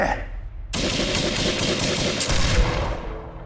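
A military police firing squad fires a volley, heard as a loud, dense burst of overlapping gunshots that starts abruptly and carries on for a few seconds before cutting off.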